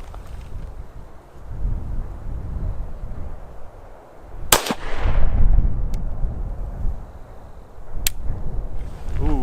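A Ruger-57 pistol firing FN rounds outdoors in the cold: one sharp, loud gunshot with a short rolling echo, then two fainter distant cracks, over steady wind noise on the microphone.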